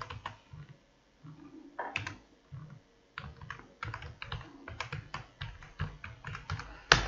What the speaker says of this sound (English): I'm going to retype my password here.